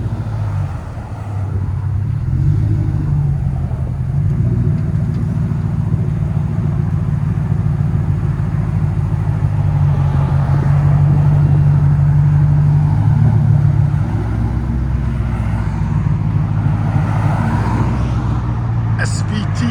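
A 1996 Ford Mustang Cobra with a 4.6L V8, six-speed, no catalytic converters and a Flowmaster 40 Series exhaust idles with a loud, deep, steady rumble, close up and continuous throughout, a slight rise in revs midway.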